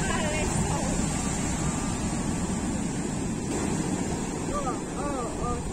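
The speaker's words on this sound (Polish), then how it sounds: "takie fale i tak blisko brzegu" Sea waves break close to shore on a windy beach at Antalya, Turkey, a steady loud roar of surf mixed with heavy wind noise across the microphone, with faint voices in the background.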